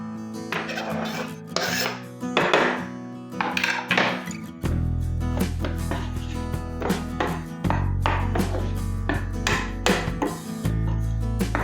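Garlic cloves being cut with a knife on a board in a home kitchen, repeated short crisp chopping taps over a steady low hum from a pan on the stove, fairly close.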